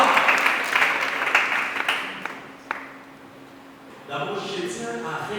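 An audience at a gathering bursts into loud applause of dense clapping that fades over about three seconds, then a voice speaks over a quieter room.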